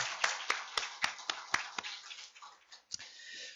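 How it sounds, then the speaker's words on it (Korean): A church congregation claps in praise during a Korean sermon, about eight sharp, fairly evenly spaced claps in the first two seconds, then a softer murmur and one last clap, with a faint wash of background. "우리 그렇게 행하시고 계시는 하나님 앞에 영광의 박수를 올려드리겠습니다."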